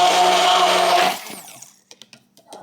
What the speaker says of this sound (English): you can see how quickly it blended up the strawberries into nice pieces